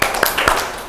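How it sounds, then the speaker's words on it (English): Students clapping together in a classroom: three sharp hand claps in quick succession, fairly close and loud, with faint voices in the background. "Clap. One."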